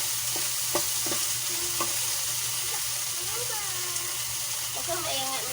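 Shrimp paste (bagoong alamang) frying in a pan on the stove: a steady close sizzle with the scrape of stirring, under soft chatter and a low background hum.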